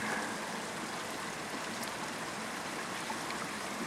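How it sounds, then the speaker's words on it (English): Pouring rain at Rampart Range, Colorado, a steady, even hiss of heavy rainfall near a bridge, continuous and fairly soft with no voices over it. "That is pouring rain."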